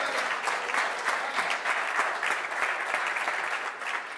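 A conference audience at a ZBrush 4R7 reveal presentation breaks into applause for Thomas Roussel, a moderate and even round of clapping that goes on without a break, heard somewhat distant in the hall.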